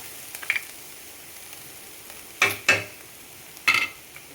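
Carrot rice being stirred in a frying pan, with a few sharp scraping clanks of a spoon against the pan over a faint sizzle; three distinct stirring strokes stand out against a quiet background.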